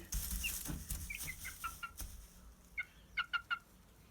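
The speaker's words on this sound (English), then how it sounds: "She's the mother hen. She keeps an eye on them." Hens cluck softly in short bursts, with a few sharper clucks near the end, close by in a quiet setting.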